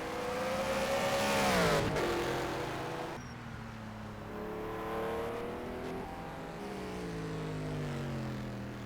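Engine notes rise sharply as a race car in a racing video game accelerates out of a turn at the Bahrain circuit. A loud revving sweep is followed by a sudden drop and then steady, climbing tones through gear shifts.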